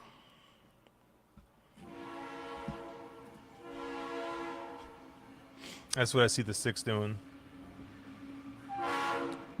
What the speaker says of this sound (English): That was a train horn.